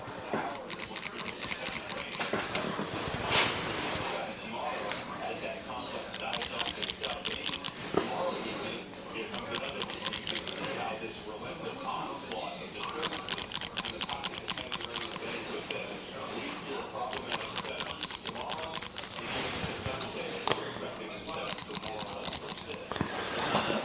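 Old school hair clippers buzz in repeated bursts of a second or two each, switching on and off as they cut hair near the microphone, with quiet talk and small handling noises in the gaps.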